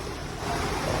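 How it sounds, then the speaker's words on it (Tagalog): Strong sea waves crash on the shore during Typhoon Aghon, making a loud, close, continuous roar of surf mixed with wind buffeting the microphone. "Ang lakas ng alon niya, no?"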